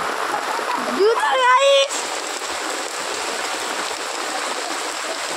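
Steady rain and rushing rainwater flowing along the ground, a broad continuous wash heard close, with a person speaking briefly over it early on.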